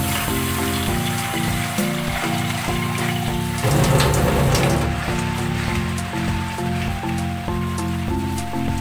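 Seafood in a Cajun sauce bubbles and sizzles in a pan while being stirred, a dense continuous simmering crackle with a louder swell midway and faint background music underneath.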